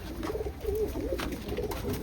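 Pigeons, among them a black Chinese pigeon, coo softly at close range in a pen, low throaty warbles repeating over faint background noise.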